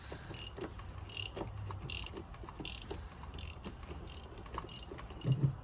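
A part being loosened with a ratchet during an oil change on a BMW X5, giving repeated quick clicking bursts at a steady rhythm, close and fairly quiet, with no talking.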